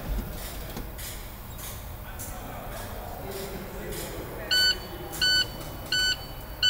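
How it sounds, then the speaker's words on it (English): A truck's air brake low air pressure warning buzzer sounds in four short, evenly spaced electronic beeps near the end of the clip, following a stretch of engine and cab noise during startup. "As you can hear, the low air indicator."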